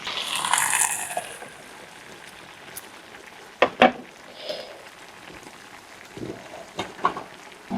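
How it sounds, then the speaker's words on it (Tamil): Tomatoes sautéing in oil in a covered pan for a peanut gravy give a soft, steady sizzle, with an occasional sharp clack of the lid or utensil and a few quieter clinks. "இந்த தக்காளி பழம் வதங்க மட்டும் ஒரு ரெண்டு நிமிஷம் மூடி வச்சிருவோம்"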